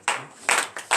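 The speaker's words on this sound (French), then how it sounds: "vous allez vous lever sur vos pieds et donner de vives acclamations à notre Seigneur" A congregation at a morning prayer service claps in short bursts, four sharp clusters of hand claps separated by brief pauses, fairly close and lively.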